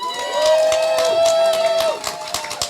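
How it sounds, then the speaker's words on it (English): An audience cheers and calls out loudly for a short burst during a live talk show, crowd voices swelling then fading, with a speaker's voice over the noise. "You got a lot of cheers for that one."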